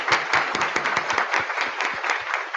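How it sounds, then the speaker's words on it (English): Audience applause at a health equity summit, a steady patter of many hands clapping at moderate distance, fairly faint and even throughout, with no voices over it. "Please join me in applauding"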